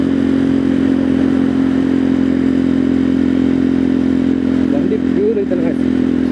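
A Jawa Perak motorcycle idles and runs nearby, a loud, steady engine drone with a low throbbing exhaust note, and someone talks over it.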